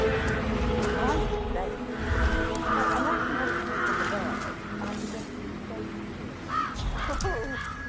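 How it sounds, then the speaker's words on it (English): Crows caw repeatedly in the Hitman 3 video game, harsh calls rising over a steady ambient bed and game dialogue. "It's the birds. They're making a racket, droppings everywhere."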